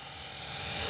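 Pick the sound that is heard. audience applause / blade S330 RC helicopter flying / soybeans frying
blade S330 RC helicopter flying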